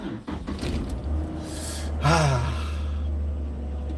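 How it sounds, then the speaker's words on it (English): A Jeep Rubicon engine starts up on a Saturday morning: a brief cranking whine rises and falls, then settles into a steady low idle hum that carries on to the end. "Sound of the Rubicon starting up on a Saturday morning"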